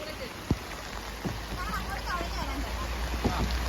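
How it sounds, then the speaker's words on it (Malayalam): Rain patters steadily on water and a kayak during a windy outing, a continuous hiss with a few sharp knocks and splashes, and people's voices faintly in the background. "ഇവിടെ മഴയാണ്, കാറ്റാണ്"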